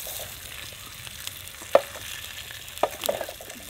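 Slices of summer sausage frying in a hot fry pan, a soft steady sizzle with a few brief sharper pops and crackles, close and moderately quiet, no talking.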